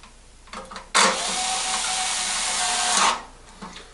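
A small Ryobi cordless power tool whirs loudly at close range for about two seconds during a microwave repair, between quieter handling sounds.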